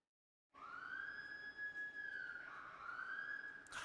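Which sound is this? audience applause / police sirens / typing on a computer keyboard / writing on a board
police sirens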